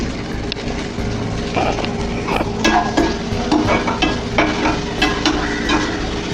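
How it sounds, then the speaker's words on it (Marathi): Green peas frying in hot oil with green chilli and ginger, a steady loud sizzle with stirring scrapes and clinks of a utensil against the pan. "हा मस्त वाटाणा आता तेलावर टाकलेला आहे"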